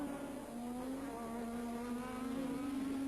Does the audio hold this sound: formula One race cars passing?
yes